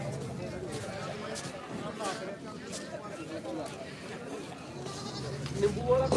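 Goats bleat repeatedly amid a busy crowd at a goat market in Mullanpur Dakha, Ludhiana, their calls rising over the babble of many people talking nearby.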